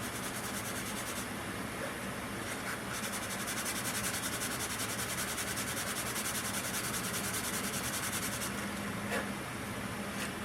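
Sandpaper rubs on a sunflower stalk being made into a Native American flute. The hiss is continuous and close, with faint shifts in stroke and no voices.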